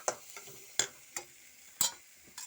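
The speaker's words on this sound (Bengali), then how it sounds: "তো মশলাটা কষানো হচ্ছে।" Spice paste with turmeric being stirred while it fries in a pan, a few sharp scraping and tapping strokes spaced irregularly over a faint sizzle.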